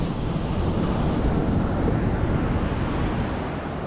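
Ocean waves surging and washing continuously in a broad, steady roar, loud and close with wind buffeting the microphone, no voices.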